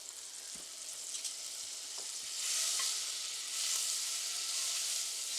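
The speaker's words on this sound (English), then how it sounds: "We just want to give it a good sear to help lock in some of that moisture" Rabbit pieces searing in butter in a hot pan, a steady soft sizzle with light crackle that swells and eases, faint stirring taps, no talk.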